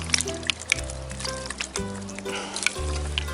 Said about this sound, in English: then you're gonna give your hands a good rinse